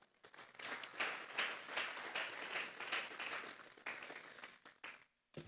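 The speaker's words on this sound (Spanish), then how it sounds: "Vamos a darle un fuerte aplauso pues al Señor." A church congregation claps and applauds together for several seconds, dense and fairly distant, fading to a stop with a few last claps.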